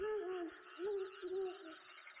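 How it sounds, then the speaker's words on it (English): An owl hooting outdoors, a few soft, drawn-out hoots in an uneven rhythm, faint and distant against a quiet background with a thin steady hum, no talking. "I can soon hear the hoot of an owl come from outside"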